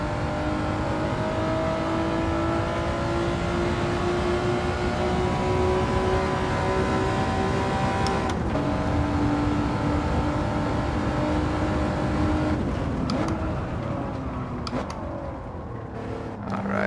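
A Honda NSX-R engine drones steadily as it is driven around a track in Gran Turismo 7, its pitch climbing slowly and then dropping at gear changes, loud and continuous without talk.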